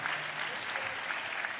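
A congregation claps hands in praise, a dense, even wash of applause heard faintly at a distance for a short moment.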